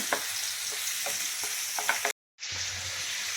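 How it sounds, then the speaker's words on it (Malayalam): Chicken frying with onions in a pan sizzles steadily while a utensil stirs it in intermittent scraping knocks; a brief dropout breaks the sound before the sizzle resumes, close and alone. "ചിക്കൻ ഒന്ന് ഇളക്കി ഇടയ്ക്കിടയ്ക്ക് ഇളക്കി കൊടുക്കുന്നുണ്ട്"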